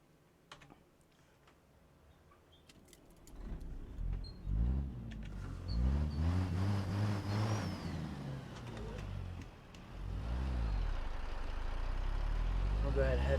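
A tuned 800 hp Cat C15 diesel truck engine in a driving video game rumbles low and revs up, rising and falling in pitch, while keyboard keys clatter throughout and someone talks over it.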